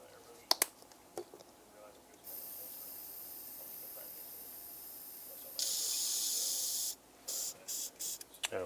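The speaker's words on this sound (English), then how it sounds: "make sure that this old airbrush is super duper clean before we throw this matte varnish on here" An old airbrush sprays matte varnish onto a painted Iron Man miniature for Marvel Crisis Protocol, giving two long, steady, close hissing bursts separated by brief clicks and pauses.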